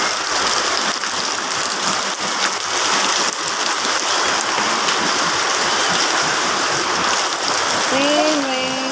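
Steady rain falls on surfaces nearby in a dense, even hiss, with a voice briefly audible near the end.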